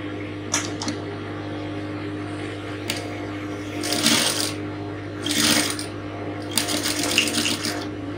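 A sewing machine stitches a Victorian corset top in short runs of rapid stitching separated by pauses, over a steady low hum in the room.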